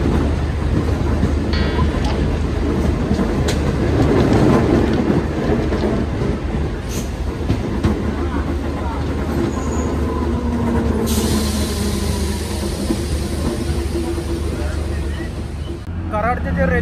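A DEMU passenger train runs on rails in rain between Pune and Kolhapur, a steady loud rumble and wheel clatter heard from inside the train, with people talking throughout.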